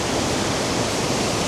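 A waterfall in Wicklow, Ireland, roars as a steady, dense rush of falling water, loud and close with no break and no voices.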